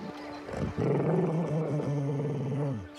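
A dog growls for three seconds in a film scene, a low, continuous, throaty rumble with rising and falling snarls, close and loud, with no talk over it.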